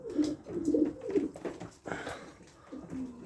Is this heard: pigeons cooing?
yes